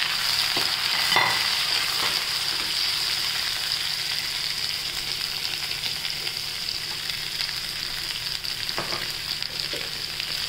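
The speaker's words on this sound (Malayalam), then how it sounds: "ഇതിലേക്ക് കുറച്ച് ഉപ്പിട്ട് ഒന്ന് വഴറ്റും." Onions with salt sautéing in a pan for a squid roast, a steady even sizzle throughout with occasional light stirring scrapes, no voices.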